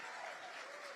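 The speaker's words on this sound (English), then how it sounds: "let's clap for 26 years of marriage" An audience at a political rally in Austin claps steadily, a brief, even burst of crowd applause heard from a distance.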